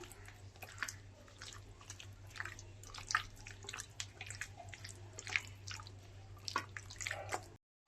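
Vetki fish pieces are squished and kneaded by hand into a wet spice paste, giving soft irregular wet squelches and clicks close up over a steady low hum.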